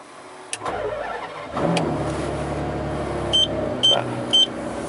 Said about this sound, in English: About the quietest Enzo I've ever heard, I think, that one. Still on standard pipes, this one.